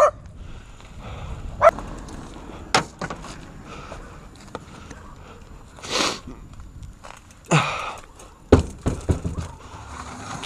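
A dog barks and yips in scattered short bursts near a mountain bike enduro trail, with irregular sharp sounds over quiet background noise.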